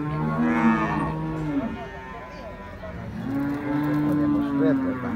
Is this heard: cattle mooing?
yes